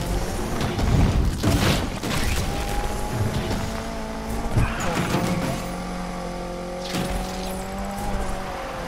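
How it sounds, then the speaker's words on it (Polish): A car drifts in Need for Speed Unbound, its engine roaring loudly while sustained tire squeals rise and fall through the slide, with a few rough bumps along the way. "Ja próbuję driftować, ale to nie zawsze wychodzi"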